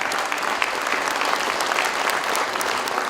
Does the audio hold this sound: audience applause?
yes